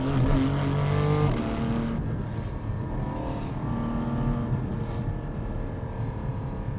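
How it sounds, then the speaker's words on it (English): A Porsche 718 Cayman GT4 with PDK gearbox accelerates hard, its engine note rising in a sweep before settling into a steady drone as the car drives on, heard from inside, loud and continuous. "718 Cayman GT4 with PDK"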